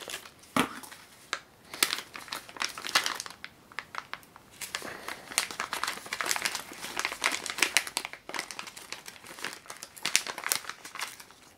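A plastic bag crinkles and rustles as it is opened while a XAircraft MiniX drone is unboxed, continuous close crackling in uneven bursts, with no talk.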